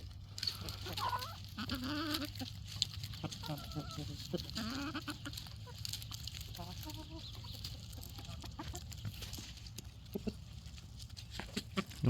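A rooster and hens peck at black soldier fly larvae in a poultry yard, softly clucking and chattering in short repeated calls, with a few faint taps and scratches nearby.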